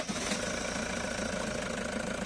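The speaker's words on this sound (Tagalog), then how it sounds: "Start ko muna itong makina mga boss." A Toyota Hi-Ace engine running at a steady, slightly rough idle, close and loud with an even mechanical rumble throughout.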